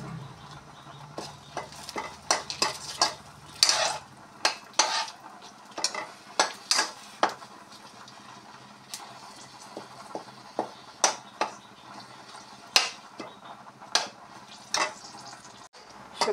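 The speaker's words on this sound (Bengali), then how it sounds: "কড়াতে তেল দিয়ে দিলাম, এখন দিয়ে দিচ্ছি তেজপাতা আর শুকনা লঙ্কা।" Bay leaves and dried chillies fry in hot oil in a wok under a faint sizzle, while a utensil clinks and scrapes against the metal in frequent sharp, irregular strokes.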